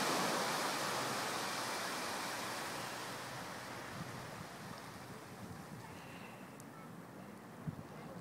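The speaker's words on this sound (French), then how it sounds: "qui est accompagnée par la respiration de la mer." Sea waves washing in a continuous soft broadband rush, slowly receding in loudness, faint and distant with no distinct breaks.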